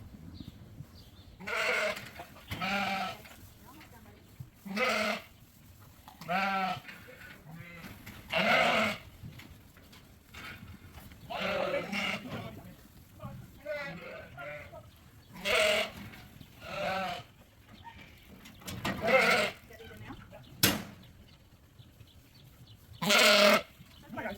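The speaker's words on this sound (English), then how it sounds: "I think there's 110 sheep in there" A flock of about 110 grazing ewes in a farm pen during deworming bleats repeatedly. Loud, overlapping calls come in frequent bursts, some near and some farther off, with quieter gaps between them.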